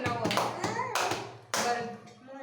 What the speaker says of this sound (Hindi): चलो इसके लिए ताली बजाओ।